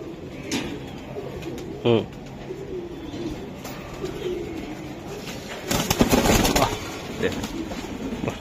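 At a pigeon seller's stall, Giribaz and Pakistani teddy pigeons give low, soft coos in short bursts amid rustling and cage noise. A louder shuffling flurry comes near the end, with some voices in the background.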